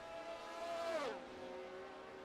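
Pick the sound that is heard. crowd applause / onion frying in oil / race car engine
race car engine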